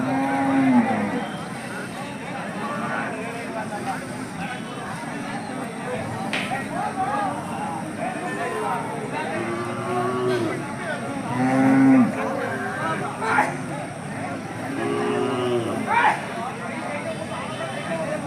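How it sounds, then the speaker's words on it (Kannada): Hallikar cattle at a temple cattle market give several deep moos spread across the scene, some near and loud, amid ongoing crowd chatter and people talking. "ಹಸುಗಳ?"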